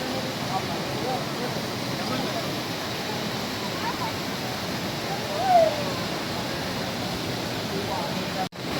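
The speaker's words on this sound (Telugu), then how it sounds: "దీన్ని తారాబు వాటర్ ఫాల్ అంటారు" The Tarabu waterfall roars as a constant broadband rush of falling water, close and steady throughout, with a brief bump midway and a sharp dropout near the end.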